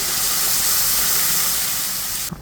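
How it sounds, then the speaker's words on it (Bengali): Hot water poured into a pan of spiced tilapia curry sets off a loud, steady hiss of steam and boiling liquid that fills the whole clip close up, with no talk. "এখন আমি গরম জল দিয়ে দিচ্ছি"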